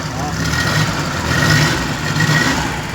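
A Suzuki F6A engine in a multicab with a faulty coil runs with a steady mid-pitched hum throughout. The sound is close, continuous and fairly loud, and a voice talks over it.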